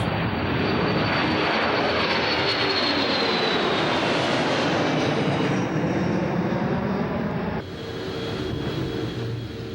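Jet engines of a Boeing KC-135 Stratotanker from the 100th Air Expeditionary Wing roar loud and close, a broad sustained rumble that shifts in pitch and drops slightly in level near the end.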